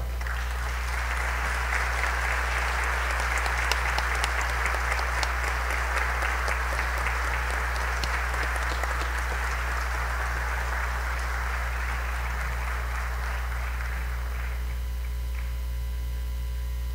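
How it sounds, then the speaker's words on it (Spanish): Warm, steady applause fills a formal solemn session hall for about fourteen seconds, then fades out, leaving only a low electrical hum underneath. "solicito un caluroso y afectuoso aplauso"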